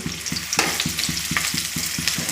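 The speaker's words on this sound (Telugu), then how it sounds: "ఈ ఉల్లిపాయ ముక్కలు బాగా ఫ్రై అవ్వాలన్నమాట దోరగా వేగాలి" Sliced onions and curry leaves frying in a pan for an egg fry, a steady loud sizzle broken by regular scraping stirs about every quarter second.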